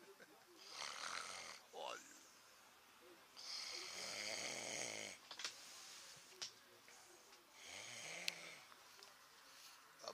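A man snores heavily at night among people camped with the yellow vests in Villefranche, with long rasping breaths that repeat at a steady pace. A few short words and faint ticks mix in.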